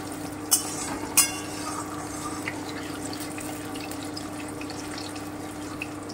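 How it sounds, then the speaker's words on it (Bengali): Green chillies frying over lowered heat in a pan, a soft continuous sizzle with two sharp clinks near the start over a steady low hum, close and without speech. "কাঁচা লঙ্কাটা দিয়ে দিলাম, তাহলে কাঁচা লঙ্কার গন্ধটা ভালো পাওয়া যাবে। একটু ভেজে নিচ্ছি"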